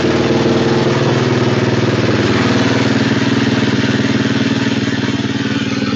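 A Kawasaki KLX250R dirt bike engine with a freshly installed JD jetting carburetor idles steadily after starting without choke, a close, loud, even thumping putter that holds for the whole stretch.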